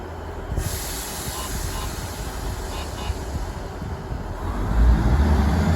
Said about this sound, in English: And there it is.